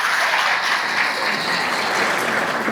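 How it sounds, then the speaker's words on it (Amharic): An audience at a book launch event claps warmly for three presenters, a dense continuous round of applause that stays loud and even from start to finish, with no speech over it. "አንድ ጊዜ ለሶስቱም አቅራቢዎች ሞቅ ያለ ጭብጨባ።"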